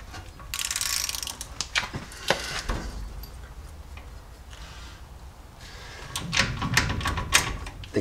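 Hand ratchet working bolts loose on the frame of a Jeep J10 during a front brake rebuild, with bursts of rapid clicking and metallic clatter up close, separated by brief pauses.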